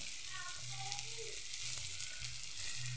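Turmeric, salt and dried chilli fry in hot oil in a pan while a spiced bread snack is made, a soft, steady sizzle crackling quietly throughout with no talking.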